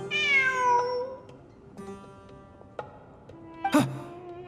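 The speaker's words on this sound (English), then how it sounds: "Look, a cat." A cat meows in the Genshin Impact video game, several short harmonic cries early on, then quieter calls and a sharp louder meow near the end, with no talk over it.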